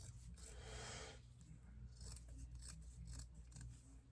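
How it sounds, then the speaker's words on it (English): Scissors snip through a dish drying mat to cut off its corners, a close, steady run of rasping cuts and rubbing with no voices. "So now we're cutting these corners out."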